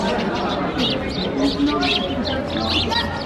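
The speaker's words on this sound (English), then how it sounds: "So many birds here." Birds chirp and twitter in the Victor Hugo garden in Paris, scattered bright calls and cooing over steady background chatter, with people talking nearby.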